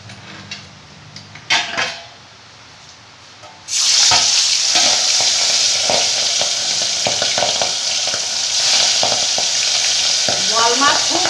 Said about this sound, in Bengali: এবার মাছগুলোকে আমি খুব আস্তে আস্তে করে ভেজে নেব